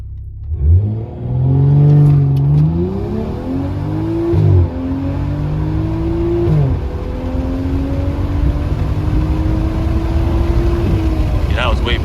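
Hard launch in a race between a Stage 2+ Subaru WRX and a Stage 2 BMW 535i, engines roaring loudly up through rising revs with sharp gear-shift dips, then a sustained high-rpm pull, with voices heard early on.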